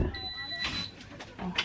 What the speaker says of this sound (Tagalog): Nag-alarm yung ating ref.